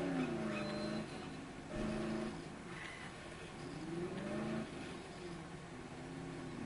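Car engine in the video game Dead Island starting and revving, a droning motor that rises and falls in pitch through several acceleration swells, moderately faint and steady, with no speech.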